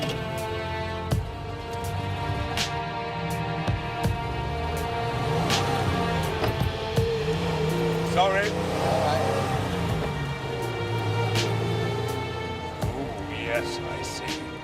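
A classic racing car driven on track gives a continuous, moderately loud engine drone whose pitch rises and falls gently as it runs.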